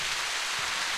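Steady rain hisses as a dense, even wash of drops in the video game The Path, with no pauses or talk.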